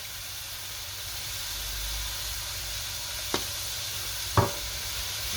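Onion fries in a stew pan with salt and black pepper, giving a steady, even sizzle throughout, broken by two brief scraping knocks of a spoon stirring near the end.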